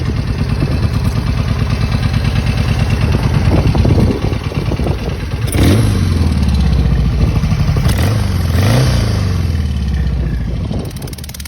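A 1968 Norton Atlas British motorcycle engine runs loud and close with a steady, throbbing idle, then gives a couple of quick revs around the middle before settling back.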